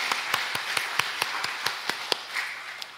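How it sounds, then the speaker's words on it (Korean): A church congregation claps after a choir's hymn: about a dozen distinct, evenly spaced claps at a moderate pace, fairly clean and alone, sounding like a small number of hands rather than a full ovation. "다시 한번 박수로 격려하겠습니다."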